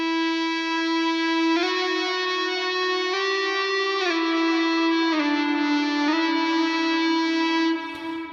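Electric guitar sustained with an eBow and played without vibrato, with heavy delay and reverb: smooth, steady singing notes stepping through about seven held pitches, each gliding straight into the next, alone and fairly loud.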